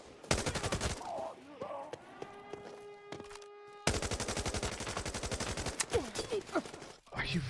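Assault rifle spray fire in the shooter Arena Breakout Infinite, dense rapid bursts of automatic shots in two long runs separated by a quieter pause, with a voice talking over parts of it.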